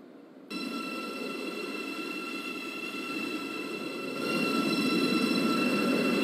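Train running in the Roblox game Stepford County Railway, a steady rolling drone with a high tonal whine that starts suddenly and grows louder toward the end, with no talk.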